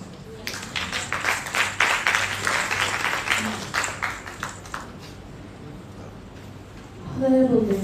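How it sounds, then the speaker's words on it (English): An audience at an International Youth Day celebration gives a round of applause, dense clapping for about four seconds that fades out before a voice starts speaking near the end. "Round of applause."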